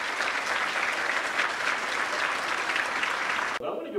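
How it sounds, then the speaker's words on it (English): A hotel ballroom audience at a Dr. Martin Luther King Jr. memorial breakfast applauds its sponsors and supporters: a dense, steady round of clapping that holds evenly for about three and a half seconds, then cuts off abruptly. "let's have a nice round of applause for our sponsors and supporters"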